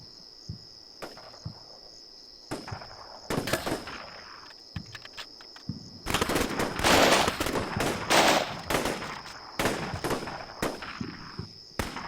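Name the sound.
gunfire from troops area-firing in the video game Black Sea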